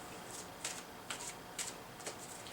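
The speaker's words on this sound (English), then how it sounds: "I'm going to do another quick shuffle of the tarot" Deck of tarot cards being shuffled quickly, a few soft riffling bursts at a regular pace, close and quiet, with no talking.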